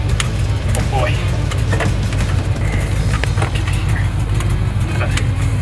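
A 1970 Chevrolet C20 truck engine rumbles loud and low inside the cab while driving, a steady drone with voices talking over it.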